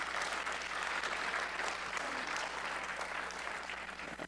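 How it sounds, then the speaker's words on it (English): A crowd at a service claps steadily and warmly, a dense, even wash of applause that holds at one level before tapering slightly at the end. "We're perfectly fine with applause here"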